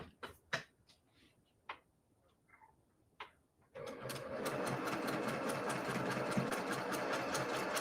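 After a few scattered clicks and handling noises, a sewing machine starts up quilting a snowman quilt block, running close and steady with a rapid, even stitching rhythm.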